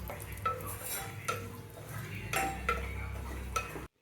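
Cashews and raisins frying in ghee while a spoon stirs them in a pan, giving a steady low sizzle broken by several scraping, clinking strokes against the metal, close and moderately loud.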